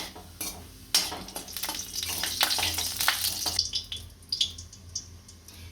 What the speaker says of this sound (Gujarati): તેલ આપણું સારી રીતના ગરમ થઈ ગયું છે, આની અંદર જીરું નાખીશું। જીરું ગરમ થવા દઈશું।